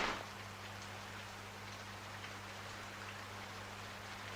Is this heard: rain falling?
yes